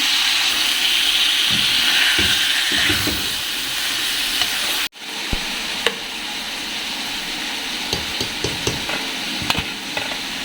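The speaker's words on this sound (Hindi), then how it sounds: "अब यहाँ पर मैं इसमें चिकन डाल दूँगी और इसको अच्छी तरह फ्राई करूँगी इसमें।" Chicken fries in a karahi with a loud, steady sizzle and hiss, and scattered clicks and scrapes from stirring grow more frequent partway through; no one speaks.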